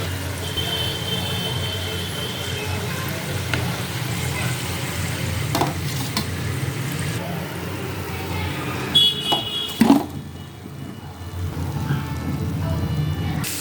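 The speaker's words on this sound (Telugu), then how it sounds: "చూడండి మళ్ళీ సెకండ్ టైం కాల్చానండి. సెకండ్ టైం వేసాను ఆయిల్లో." Sweet jaggery kajjikaya pastries deep-fry in hot oil, giving a steady close sizzle and bubbling with occasional stirring clatter, and a brief quieter dip near the end.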